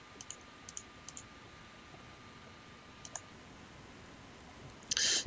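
Several light computer mouse clicks, spaced irregularly and close by, ending in a brief louder cluster, with no talking over them.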